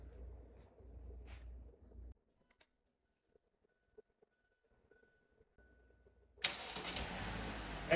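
A 2017 Hyundai Elantra, started by a remote starter, catches and settles into a loud steady idle after a stretch of quiet with faint clicks and a low hum; a bird coos faintly early on.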